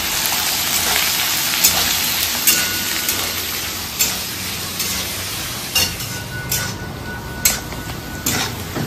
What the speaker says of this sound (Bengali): ফ্রাইড রাইসটা আজকে শুধুমাত্র ঘিতেই বানানো হচ্ছে, সাদা তেল অ্যাড করা হয়নি।